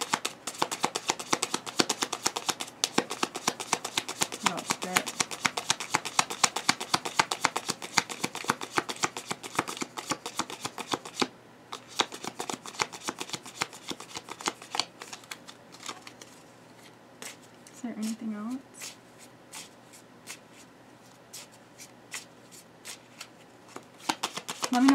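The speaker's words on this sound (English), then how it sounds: "let's keep pulling some cards" Tarot cards being shuffled and pulled: a long run of rapid crisp riffling clicks, close and fairly loud, which thins out into sparser flicks and card taps toward the end.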